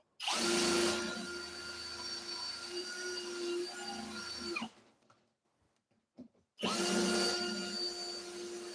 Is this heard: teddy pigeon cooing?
no